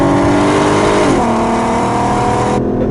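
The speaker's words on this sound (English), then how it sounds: "Second gear now, got on the top of the rev range." The VR6 engine of a 2008 Volkswagen R32 revs hard and high in second gear, a steady loud roar that dips briefly as the gear changes, then climbs again.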